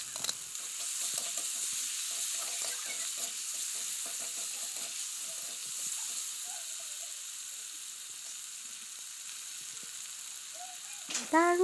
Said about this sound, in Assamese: আদা আৰু বিলাহী পিঁয়াজৰ লগত অলপ ভাজি